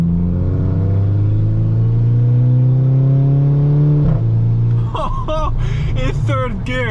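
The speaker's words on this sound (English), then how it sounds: "The freaking sound that this exhaust is producing, it's freaking cool" VW Golf GTI with a 3-inch custom straight pipe exhaust and DSG gearbox droning loudly from inside the car, engine pitch rising steadily under load before a shift, then someone talking excitedly over the constant rumble.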